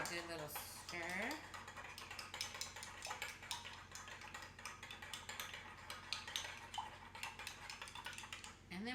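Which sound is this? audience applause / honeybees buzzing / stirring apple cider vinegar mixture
stirring apple cider vinegar mixture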